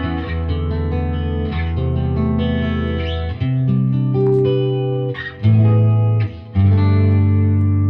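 Distorted electric guitar chords ring out loud and sustained, changing every second or so, with a buzzing, saturated tone.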